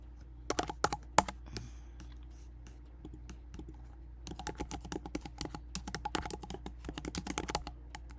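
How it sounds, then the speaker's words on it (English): Typing on a computer keyboard at close range, quick bursts of clicking keystrokes separated by a pause, with a faint steady background hum and no voices. "what are we gonna type into YouTube?"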